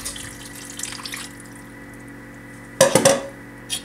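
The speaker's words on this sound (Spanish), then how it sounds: "le echo más o menos la misma cantidad de así de este moledor, que viene siendo como una tacita y media de agua" Water for cooking rice with shrimp is poured into a pot, a short loud splashing burst near the end following quiet kitchen background, then a brief second splash.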